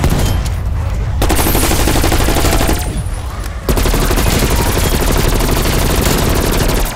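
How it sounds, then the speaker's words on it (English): Hand cannon gunfire in Call of Duty: Black Ops Cold War comes as loud, dense, sustained rapid shots in two long bursts with a short gap between them, up close and filling the mix. "Hand cannon, watch me work."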